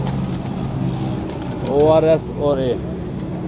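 Pigeons coo softly in a loft, a couple of short throaty calls rising midway above steady background hum while someone talks nearby.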